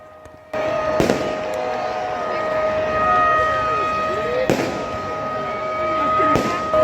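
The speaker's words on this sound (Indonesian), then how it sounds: "kembang api dan petasan yang berpendar di sekitar Jam Gadang. Letusannya sahut menyahut." Fireworks and firecrackers boom and crackle repeatedly around the Jam Gadang clock tower, sharp bangs standing out over a continuous roar of distant explosions and the noise of a crowd of thousands.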